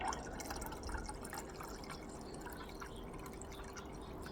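Liquid solution is poured into filtered material from scrapped computer RAM to drop out gold, giving a faint, soft trickle and scattered drips that continue quietly throughout, with no talking.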